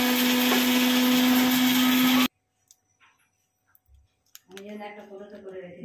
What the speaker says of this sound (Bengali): এই যে কাজু, শুকনো লঙ্কা এটা বাটতে হবে।